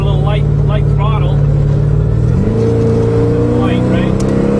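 A 1650 HP Mazda RX7 burbles at light throttle in second gear, a loud, close, steady low drone that shifts pitch partway through, heard from inside the car.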